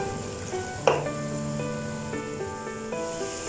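Chopped tomatoes frying in a pan for aloo palak, a steady sizzle with a brief stirring clatter near the start and soft scraping afterward.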